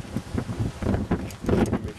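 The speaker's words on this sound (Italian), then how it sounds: "Al solito qui è ventoso" Wind blows outdoors in gusty bursts, buffeting the microphone with uneven low rumbling and rustling noise that rises and falls across two seconds, with no voices.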